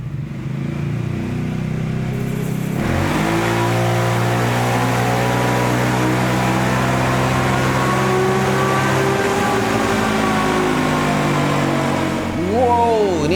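A modified Yamaha Xmax motorcycle engine, bored from 250cc to 344cc, revs hard and continuously on a dyno, its pitch climbing steadily through the gears before dropping off near the end, loud and close.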